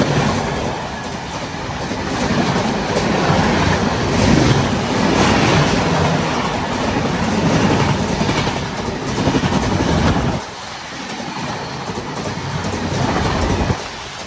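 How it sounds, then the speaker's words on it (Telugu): The Visakhapatnam to LTT Mumbai Express, travelling at high speed, passes close by with a loud, steady rumble and clickety-clack of wheels over the rails. The roar holds for about ten seconds, then drops to a softer trailing rumble. "సో ఇప్పుడు వెళ్ళింది కదా ఆ ట్రైన్ వచ్చేసి Visakhapatnam to LTT Mumbai express."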